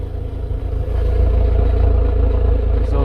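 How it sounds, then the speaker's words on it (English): An MG TF sports car's engine and exhaust idle and run steadily close by, a deep continuous rumble that swells slightly after the first second with a faint mechanical rattle underneath. "Exhaust sounds good."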